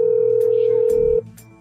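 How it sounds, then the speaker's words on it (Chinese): A telephone dial tone heard while placing a call: a steady, loud single-pitched hum that holds for over a second and then cuts off abruptly, followed by a brief click. "让我打个电话"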